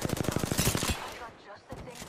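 Rapid automatic gunfire in the video game Apex Legends, a fast close burst of evenly spaced shots that breaks off, then a few more shots return near the end.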